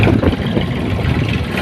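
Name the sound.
tractor engine running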